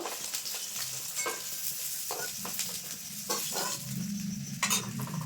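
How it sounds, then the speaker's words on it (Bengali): Pieces of aar fish fry in hot oil with a steady close sizzle, while a utensil stirs and scrapes against the pan in occasional short clatters. "বাকি যে মাছগুলো আছে এগুলো কিন্তু আমি ভেজে নেব"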